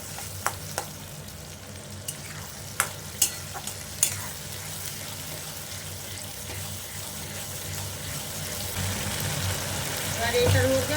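Spice paste frying for mutton biryani, a continuous low sizzle with several sharp ladle taps and scrapes against the pot early on, growing slightly louder and busier toward the end.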